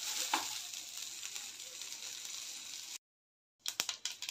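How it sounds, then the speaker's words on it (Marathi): Cluster beans (guar) dry-roasting in a pan give a steady, close hiss of sizzling for a few seconds. It stops briefly, then returns with sharper clinks and scrapes of stirring. "गवारीवर ब्राऊन रंग येईल असं होईपर्यंत भाजून घ्यायचं आहे"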